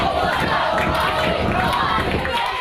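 Emotional football spectators in the stands at a youth tournament, a loud dense roar of shouting and chanting voices that holds steady throughout.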